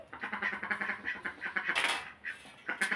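A duck quacks repeatedly and close by, a rapid series of nasal calls with brief pauses, heard alone without talk.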